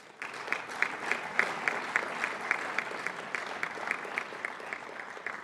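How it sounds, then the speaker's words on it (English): Audience applause at a 2023 ROTC commissioning ceremony, a smaller crowd's clapping with distinct individual claps rising above the patter in a loose, uneven rhythm, moderately quiet and somewhat distant. "So give yourselves a round of applause for that."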